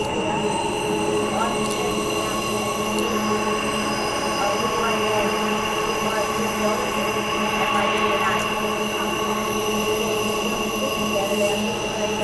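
Transperth B-series electric train on the Joondalup Line between Leederville and Perth, heard from inside as a steady rumble with a constant motor whine and high squealing wheels, carrying on throughout without a break.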